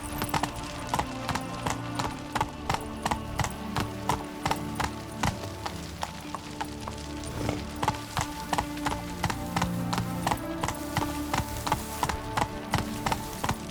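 Roach the horse gallops in The Witcher 3 with a steady, rhythmic clip-clop of hoofbeats, close and even, running unbroken over a continuous tonal background.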